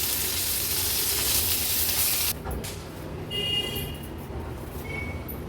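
Pomfret fish frying in oil on a tawa give off a loud, dense hiss that drops abruptly as the fish is pushed aside, leaving a quieter sizzle with a few light metallic touches.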